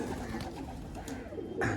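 Pigeons cooing in a low, soft, rolling murmur, steady and fairly faint for under two seconds, with a slightly louder coo at the end.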